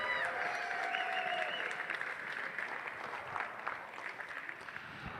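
Crowd applause at a basketball senior night honoring Trey Hubbard, a steady wash of clapping in an arena with a few whoops and cheers rising above it, fairly distant and fading slightly toward the end.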